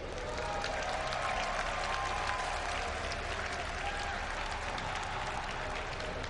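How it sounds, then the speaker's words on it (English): An arena audience at Gamescom cheers and applauds for StarCraft II player Nerchio before a semi-final game, a loud, dense, unbroken wall of clapping and cheering. "If you want him to, give a cheer for Nerchio."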